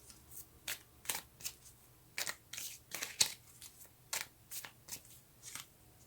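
Tarot cards are shuffled and drawn, a series of quick papery riffles and flicks in short bursts, close and quiet with pauses between.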